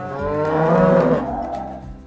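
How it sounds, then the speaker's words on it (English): A black-and-white cow on a farm lets out one long, loud, close moo that swells and fades, with nothing else heard. "It's a cow."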